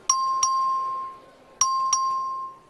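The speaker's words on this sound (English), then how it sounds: "The clerk will ring the bell." A legislative chamber's voting bell chimes in two pairs of clear, ringing tones, each pair a quick double strike that sustains and fades, loud and close with a quiet hall behind.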